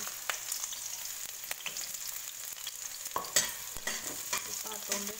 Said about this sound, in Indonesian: Kita tumis dulu ya.